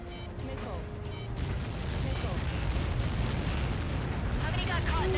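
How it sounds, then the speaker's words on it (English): A massive blast from Helios projectiles impacting in the Ace Combat 7 flight combat game, heard as a loud, sustained, rumbling roar that swells and holds steady throughout, with faint voices early on. "How many got caught in that explosion?"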